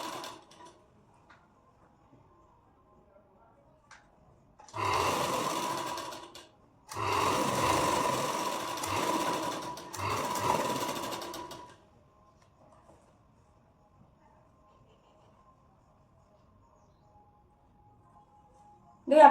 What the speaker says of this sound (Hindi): देखो हमने यहाँ पे सिलाई लगा दी।